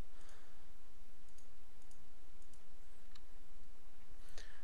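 Computer mouse clicks land as faint, scattered, isolated taps against a quiet background while someone edits text formatting in a WordPress blog post.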